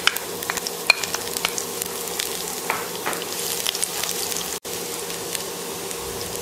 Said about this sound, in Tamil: கடுகு நல்லா பொரிஞ்சதும் நம்ம பூண்டு சேர்த்துக்கலாம்.